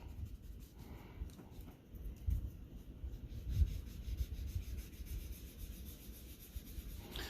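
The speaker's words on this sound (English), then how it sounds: "Just get your kneadable eraser, clean that edge up a little bit." A kneadable eraser rubbing on drawing paper to clean up the edge of a shaded sphere, soft close scrubbing strokes in irregular bursts, quiet and without talk.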